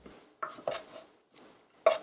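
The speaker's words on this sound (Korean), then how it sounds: "이렇게 다 됐으면 그릇에다가 옮겨줍니다" Thinly julienned vegetables are moved into a bowl during Korean cooking prep, heard as several close clinks and scrapes of utensils against dishware with quiet pauses between.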